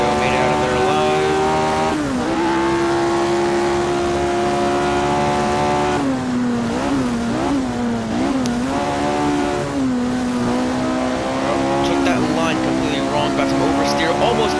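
Jim Clark's vintage Formula 1 car racing the 1966 Monza oval in the Assetto Corsa game, a loud continuous high-revving engine whine with gear-change drops and pitch swings through the laps, while someone talks over it.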